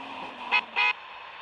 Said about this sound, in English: Weird horn.